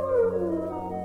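A long, sustained howl in a radio-drama style fits a wolf howling at night, sounding loud and close with a slowly falling pitch, and no voices over it.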